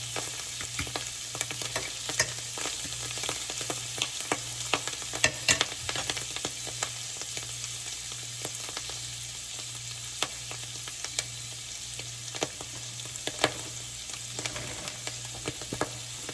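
Cutlets frying in hot oil give a steady, dense sizzle with scattered crackles and pops, close and continuous throughout with no voices.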